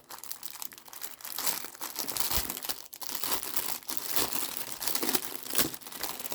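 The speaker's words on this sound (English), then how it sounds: "Sorry about all that crinkling." Plastic packaging crinkles and crackles continuously up close while a parcel of vintage laces is unboxed, with dense, uneven rustling and a few sharper crunches.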